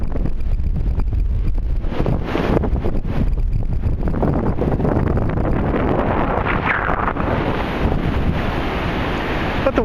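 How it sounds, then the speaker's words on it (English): Strong wind buffets the microphone on a beach at Cumberland Island, a loud, steady gusting roar with surf washing underneath, continuous for the whole stretch and no voices. "It's kind of windy."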